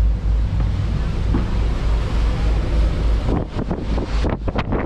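Steady rumbling engine drone and rushing water of a very small ferry moving slowly at sea, with wind buffeting the microphone, continuous throughout, with some choppy gusts near the end.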